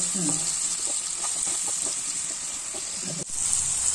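Prawn fried rice being stirred in a frying pan, with a steady soft sizzle and scraping throughout and faint speech-like sounds underneath, pausing briefly near the end before resuming.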